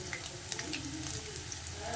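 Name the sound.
cumin, nigella seeds and asafoetida sizzling in hot oil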